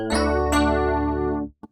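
An 80s-style synthesizer electric piano chord rings out thick and shimmering with a wide Dimension D chorus wobble, then cuts off, followed by two short soft notes.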